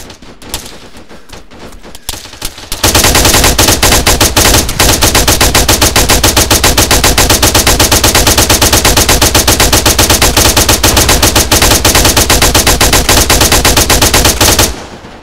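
Sustained machine gun fire in the Arma 3 military video game: after a few scattered shots, a loud, rapid, continuous automatic burst runs for about twelve seconds before stopping abruptly, with no talk.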